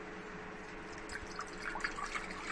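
Water pours into a cooking pot with a soft, steady trickling and gurgle that builds slightly toward the end, close but quiet, with no talking.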